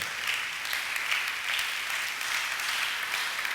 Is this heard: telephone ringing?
no